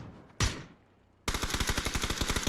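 Gunfire in PUBG during an esports league match: one sharp shot, a pause, then a long loud burst of rapid automatic fire with evenly spaced reports.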